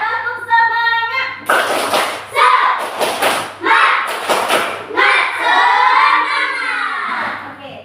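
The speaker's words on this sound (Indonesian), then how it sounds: "kelas 6 Siap. tepuk semangat." A class of sixth-grade pupils claps a rhythmic spirit clap in a classroom, bursts of sharp claps in a patterned beat with children's voices calling along between them.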